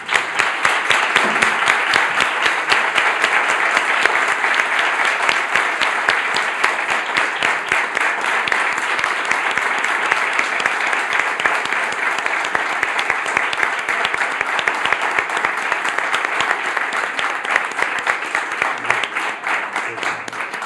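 Sustained audience applause at the Getafe Negro crime-fiction festival during an onstage conversation with Forges, a dense, even clapping that holds strongly for about twenty seconds with no talk over it.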